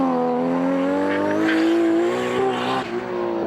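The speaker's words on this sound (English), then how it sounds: "Ron coming down through the quick succession of bends, really having to throw the car around" A race car is thrown hard through a quick succession of bends at a 2004 track event, engine note rising and falling alone and close with a brief tire squeal as it turns.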